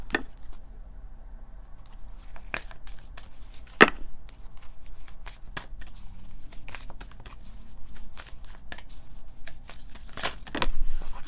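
Tarot cards are shuffled and drawn by hand in a reading, giving scattered dry snaps and riffling clicks near the microphone, with one sharp louder slap and irregular pauses between flurries.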